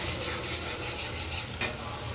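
Potatoes are stirred and fried in spice paste in a wok, with a continuous scraping, rubbing stir and a soft sizzle beneath, plus one sharper knock near the end.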